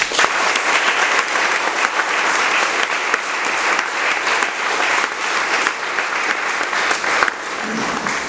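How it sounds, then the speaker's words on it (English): An audience gives sustained applause to honor community leaders and members of the Duwamish tribe, with dense, even clapping filling the room for several seconds. "Can we honor them one more time with a round of applause?"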